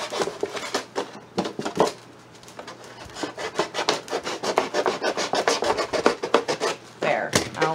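A dull knife sawing and scraping through material while a homemade seed-starting greenhouse is built, giving repeated rough rasping strokes up close in a busy steady rhythm, with a brief pause partway through.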